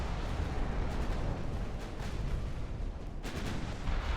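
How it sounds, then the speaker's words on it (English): A torpedo strikes a battleship in the naval strategy game Ultimate Admiral: Dreadnoughts, setting off a dense, continuous roar of rumbling explosions that stays loud throughout. "That's a torpedo hit."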